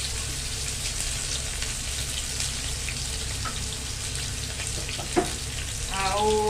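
Onions with salt fry in a pan as part of a wild edible mushroom dish, a steady broadband sizzle running throughout at moderate level, with a brief clink near the end and a faint tonal sound at the close.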